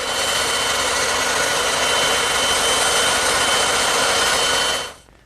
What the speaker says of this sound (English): Then I'll rough them out on the bandsaw.